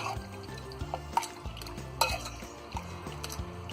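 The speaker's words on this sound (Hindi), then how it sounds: "इन सारी चीजों को अच्छी तरह हम मिक्स कर देंगे।" Yogurt, lemon juice, turmeric powder and salt are stirred together in a bowl for a chicken marinade. A spoon scrapes and clinks softly and steadily against the bowl, close by and fairly quiet, with no talking.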